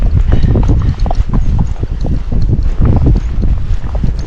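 Steady, rhythmic hoofbeats of a Missouri Fox Trotter walking outdoors under a rider, with wind buffeting the microphone throughout.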